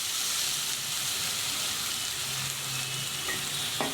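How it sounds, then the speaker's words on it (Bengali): Garlic and spice paste frying in a pan, a steady dense sizzle and hiss held close and fairly loud throughout, with faint stirring movement and a brief scrape near the end, no voices. "এটাকে মিশিয়ে ভালো করে মশলাটা কষিয়ে নিতে হবে।"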